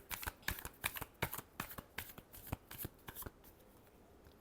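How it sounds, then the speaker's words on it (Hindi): Tarot cards are shuffled by hand in a quick series of crisp riffling bursts that come close and loud, then thin out into fainter rustles. "last shuffle"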